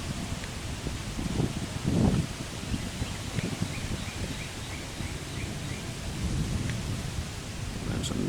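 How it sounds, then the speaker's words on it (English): Thunder rolls during a breezy storm. A deep rumble swells about two seconds in, over a constant wash of rain and rustling leaves that continues to the end. "There's another clap of thunder just now."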